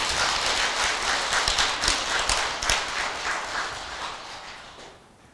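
Audience applauding for the monks at a Buddhist temple gathering: dense, sustained clapping from a crowd that holds steady for several seconds, then thins and fades out at the end.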